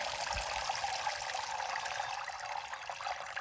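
Rainwater poured into homemade plant food to dilute it, a steady continuous trickling splash close by, fairly even throughout with no talk.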